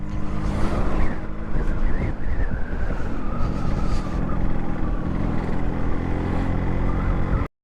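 A Yamaha RX motorcycle engine drones loud and close throughout a ride on a very rough road, with steady revving and wind noise, cutting off abruptly at the end.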